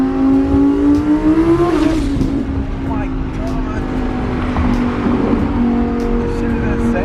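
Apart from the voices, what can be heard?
twin turbo Lamborghini accelerating hard on the freeway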